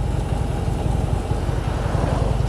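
A motorcycle engine runs steadily in third gear at low road speed, a close, loud, low throbbing rumble with an even pulse and no talking.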